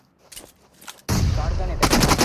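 Shotgun gunfire in the BGMI battle royale mobile game, a few faint clicks and shots followed by a loud, sustained burst of close blasts with a second burst near the end.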